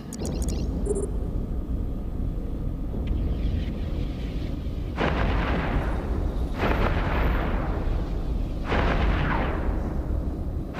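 Heavy weapon fire and booming explosions tear apart an Apocalypse ship in the EVE Echoes space game, a dense continuous roar with three strong surging blasts around the middle and end, no talking.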